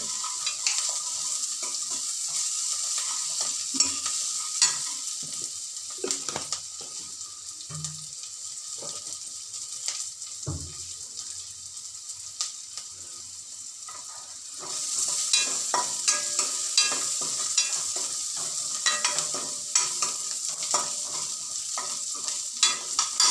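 Onions frying with salt in a pan on a tava, a steady sizzle throughout with intermittent scrapes and knocks of stirring, the frying growing louder partway through.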